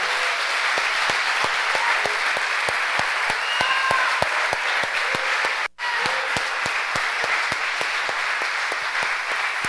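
A church congregation applauds in a sustained, even round of clapping, many hands blending into a steady roar with a brief pause near the middle before it resumes.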